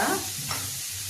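Tomatoes with a little salt cooking in a pan on a low flame, a short burst of close sizzle with a soft stirring scrape in the middle.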